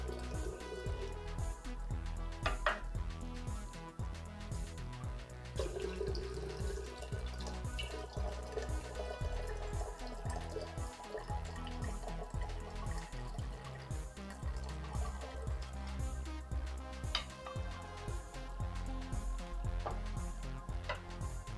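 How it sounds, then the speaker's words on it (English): Water is poured cup by cup into a glass mason jar for homemade dishwasher detergent, a continuous close trickling and splashing with a few brief clinks, heard alone without talk. "We're going to take each cup of water and pour it into this mason jar."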